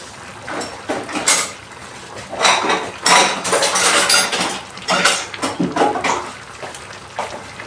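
A fork pokes and scrapes at mutton korma cooking in a metal pot. The clinks and scrapes are loud and close and come in irregular bursts, with wet sizzling in between and no speech.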